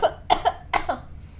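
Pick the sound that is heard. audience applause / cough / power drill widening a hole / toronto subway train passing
cough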